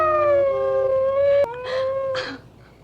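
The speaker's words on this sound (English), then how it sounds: "Karana heard the sound of other dogs barking in the distance." Dogs in a film letting out long wavering howls, one drawn-out cry breaking off and a second rising after it, fairly clear and close with a quiet background.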